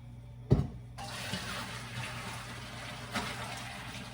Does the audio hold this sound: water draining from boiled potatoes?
yes